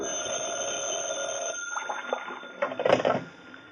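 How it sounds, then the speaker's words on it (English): A telephone rings in an old radio detective drama, steady bell-like ringing at first, then breaking into irregular clattering bursts as the ring cuts off, with no talking. "when the phone rang"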